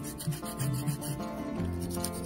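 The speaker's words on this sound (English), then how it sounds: "we're going to use a 150 grit file to blend in the sides" A 150 grit nail file rasping along the sides of an acrylic stiletto nail, steady close scratchy strokes repeating rapidly with no talking.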